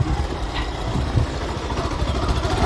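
A motorcycle engine runs close by on a rural road, a steady mid-pitched chugging idle and putter that continues throughout without pause.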